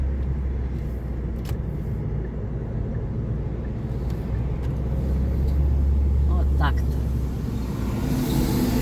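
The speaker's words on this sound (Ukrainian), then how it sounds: "Бачите, машина поїхала." A car drives away along a city street, its engine rumble swelling then fading under steady traffic noise, with someone talking nearby.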